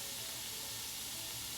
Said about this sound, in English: Can you hear that sizzling noise?